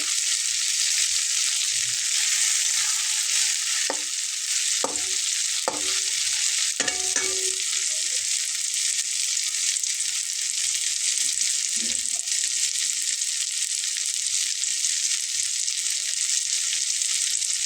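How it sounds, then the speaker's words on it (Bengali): Tomatoes fry in plenty of oil with no water, a steady loud sizzle throughout, broken by several sharp scraping and clinking stirs of a spatula against the pan in the first half. "সম্পূর্ণ তেল দিয়ে ভাজা ভাজা করে নিয়েছি উল্টে পাল্টে"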